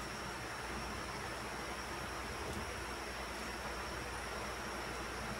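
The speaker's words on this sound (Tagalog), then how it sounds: "Kasi ang lakas ng ulan." Heavy rain pours down in a dense, unbroken hiss, loud and constant throughout, with no voices.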